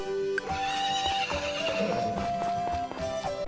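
A horse in the farming game Story of Seasons: Friends of Mineral Town neighs and whinnies in tonal synthesized calls over steady clip-clop hoofbeats and a continuous game music bed, loud and close throughout.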